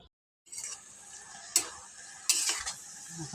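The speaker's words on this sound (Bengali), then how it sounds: "এবার মা দুধ কুচুটাকে ঘেটে নেবে" Milk taro with coriander, chili and ginger paste being mashed and stirred in a pan alongside khesari dal, giving soft scraping and sizzling with a couple of sharper utensil knocks against the pan.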